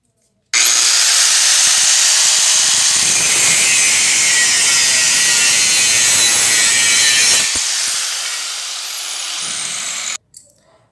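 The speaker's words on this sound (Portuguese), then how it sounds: "pegar essa fita aqui, ó, vou cortar um pedaço aqui agora" Loud, sustained tearing rasp of tape being pulled and cut into pieces, running unbroken for several seconds before easing off and stopping abruptly, with no voices.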